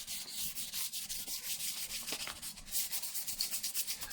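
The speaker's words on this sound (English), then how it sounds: "I need to get this all rubbed. Again, guys, a light rub. Not much at all." Light hand sanding rubs down a quad bike part before painting, a close, steady back-and-forth scratching in quick regular strokes that continues without pause.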